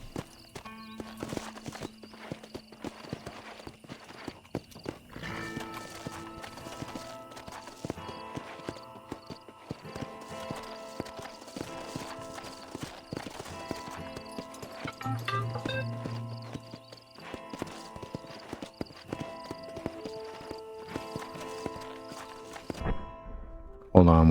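Horse hooves clip-clop steadily in Red Dead Redemption 1 Remastered as the rider approaches Fort Mercer, a rhythmic walking gait under game music and ambience, with an occasional whinny and a voice talking over it.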